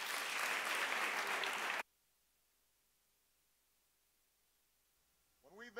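Loud audience applause welcoming a speaker to the stage at a Catalan talk, filling the first two seconds before cutting off abruptly into near silence, after which a voice starts speaking.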